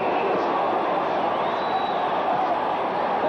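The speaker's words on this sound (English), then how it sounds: "Green goes in again with this overwhelming support from the crowd in the Empire Pool." A large crowd at the Empire Pool roars in overwhelming support for boxer Dave Boy Green during a world title fight, a steady dense wash of cheering and babble that never lets up.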